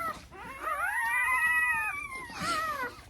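Newborn American Bully puppies whining in high, wavering cries that rise and fall, one long drawn-out whimper followed by a shorter one, close and fairly loud with no talking.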